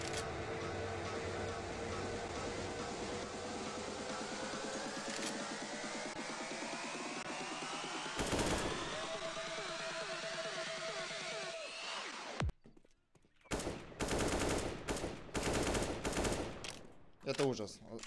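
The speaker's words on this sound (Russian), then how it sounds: "Звуки стрельбы есть, но они очень ужасные, ребят." Rapid gunfire from the video game CS:GO played through cheap headphones: a long, harsh, tinny burst of shots with rising whine for about twelve seconds, then scattered bursts of individual shots.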